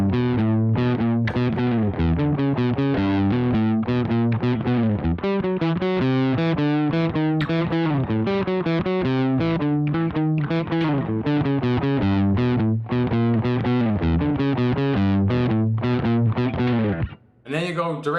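Distorted electric guitar plays licks, two phrases joined in a steady, driving run of chunky notes and slides, loud and continuous with a brief drop near the end.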